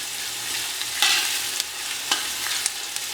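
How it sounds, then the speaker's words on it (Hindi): Four chopped onions sliding into hot oil for a Bengali mutton curry, a dense close sizzle with a few spatula taps and scrapes as they are stirred, and no voices. "ये 4 प्याज हैं जो हमने चॉप कर लिए हैं, इन्हें डालेंगे बिल्कुल आहिस्ता से।"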